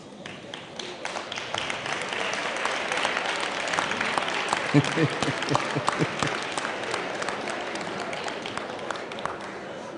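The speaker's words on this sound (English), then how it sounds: "Everybody started clapping." Sustained applause from an audience, dense clapping filling the whole stretch with a steady crowd wash, no break in it.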